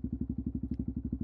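A motorcycle coasting with the clutch pulled in, its engine giving a steady fast run of thumping pulses, about a dozen beats in just over a second, fairly faint and close.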